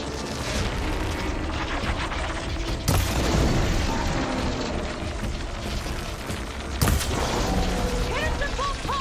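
A detonation in Horizon Forbidden West booms out amid dense combat noise, with two sharp blasts at separated moments over a continuous loud rumbling bed, while a voice talks.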